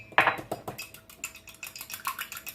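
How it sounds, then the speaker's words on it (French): Egg yolk lightly beaten into water in a bowl, rapid clinking taps of a utensil against the bowl in a quick irregular rhythm, close and fairly loud. "je bats légèrement juste pour avoir un mélange homogène"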